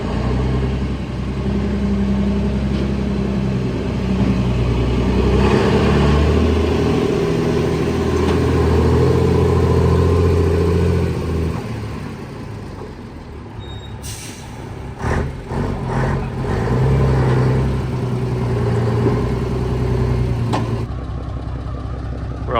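Heavy diesel engine of a Chieftain tank running on its first start in 20 years, a loud steady low rumble throughout, with a burst of hissing and rattling midway before the drone settles again.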